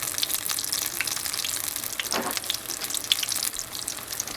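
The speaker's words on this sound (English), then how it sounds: "you can see they're frying" A steady, faint crackling sizzle of Ital fritters frying in oil, continuous and even with no one talking.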